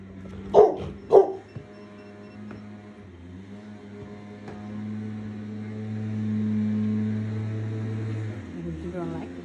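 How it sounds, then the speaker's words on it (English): Two sharp barks from terriers near the start, close and loud, followed by quieter indoor household sounds with a low steady hum. "these are terriers, so they're known for their barking."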